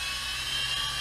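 A GP Toys G610 3.5-channel infrared RC toy helicopter in flight, a thin, high-pitched electric whine of small rotors and motor, steady and fairly faint, with no voices.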